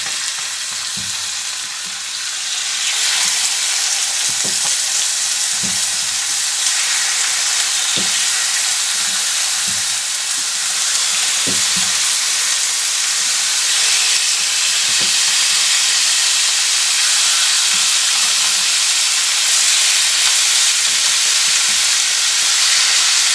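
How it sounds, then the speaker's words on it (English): Chicken thighs sear in a preheated pan with a loud, steady, close sizzle and hiss that holds for the whole stretch, broken by faint occasional clicks and no talking. "So I'm going to put these thighs into our preheated pan and let them start"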